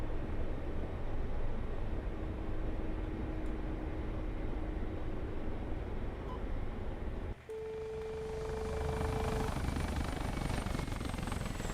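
A Mi-24P Hind attack helicopter in the combat flight simulator DCS gives a steady, loud rotor and turbine drone throughout, with a short electronic tone midway and a brief dip before the engine noise resumes.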